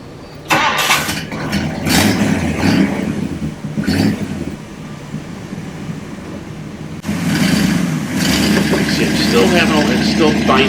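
The engine of a 1962 Thunderbird starts up and runs loud and close, rising after a pause while a back wheel on the passenger side spins and binds, with a rough grinding texture.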